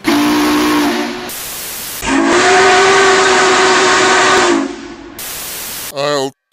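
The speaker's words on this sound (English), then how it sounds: "Steam engines have whistles that sound like this." A loud, steady whistle from Union Pacific steam locomotive No. 844 blows in two long blasts with a hissing rush of steam between them, followed by a short fluttering tone.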